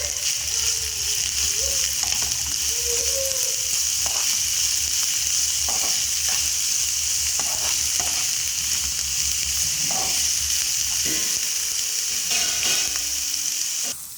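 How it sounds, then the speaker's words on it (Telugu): Green chillies and ridge gourd peels fry in a pan with a loud, steady sizzle throughout, broken by occasional scrapes and stirring clatter from a spoon. "ఇవి కూడా మనం దీంట్లోకి అయితే వేసుకొని ఇప్పుడు మనం వీటిని ఫ్రై"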